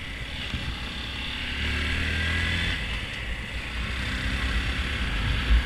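Honda Grom motorcycle riding, a continuous buzzing engine drone with wind rush that swells for a few seconds mid-way as the small engine revs, then settles back to a steady hum.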